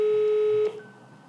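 A telephone line gives a single steady electronic tone for about half a second, then drops to a faint quieter tone during an unanswered call attempt.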